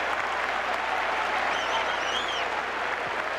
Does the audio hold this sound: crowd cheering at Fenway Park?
yes